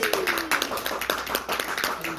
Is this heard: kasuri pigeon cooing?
no